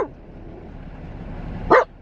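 One short, loud bark from a dog riding past rocks in a vehicle in Davis Mountains State Park, close to the microphone, preceded by a soft vocal onset and steady low road rumble underneath.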